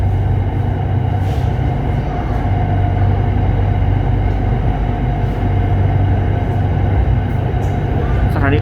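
An SRT Red Line electric commuter train on the Taling Chan–Bang Sue line pulls out of a station, heard from inside as a loud, steady rumble and rail hum with faint clicks toward the end.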